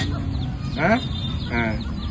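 Two short bursts of hen-like clucking from nearby chickens, set against a steady background hum.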